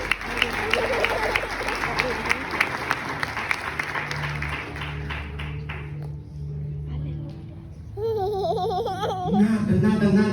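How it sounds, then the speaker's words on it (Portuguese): A congregation claps during a Portuguese-language church sermon, a brisk burst of applause that fades midway into quieter room sound, with voices and cheering rising near the end. "Você pode aplaudir o nome do Senhor?"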